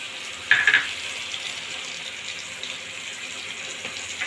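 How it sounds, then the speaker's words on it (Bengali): Water running briefly from a tap as a spice bowl is rinsed and the water added to a pot of ginger and tomato masala for a Bengali taro curry, a short splash followed by a faint steady hiss. "দিয়ে বাটিটা ধুয়ে একটু জলও আমি এর মধ্যে অ্যাড করলাম।"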